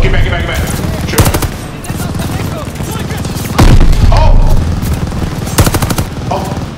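Gunfire from the Call of Duty Vanguard campaign at Tobruk, with several loud bursts of automatic fire and heavy impacts over continuous battle noise, mixed with voices.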